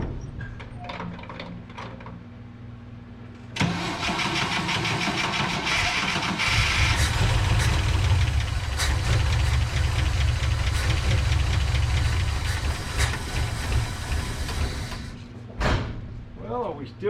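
A 1963 GMC service truck with a rat rod engine cranks hard without catching, a loud continuous churning that starts abruptly after a quieter stretch and stops near the end, with a deeper rumble joining partway through.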